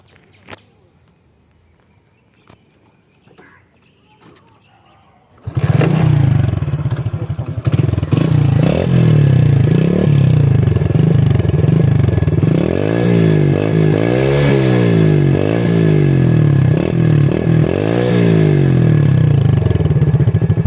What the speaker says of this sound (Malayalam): വണ്ടി സ്റ്റാർട്ട് ചെയ്തിട്ടുള്ള ഒരു എക്സോസ് നോട്ടും കാര്യങ്ങളൊക്കെ ഒന്ന് കേൾക്കാട്ടോ